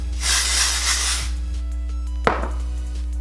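One long hiss of hairspray sprayed close by, about a second, then quieter handling noise and a brief tap.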